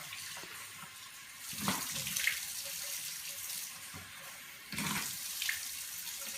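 Warm water runs from a tap over closed eyelids during a rinse after hot compresses and lid scrubs, a steady close splashing with louder surges where hands cup and spill the flow.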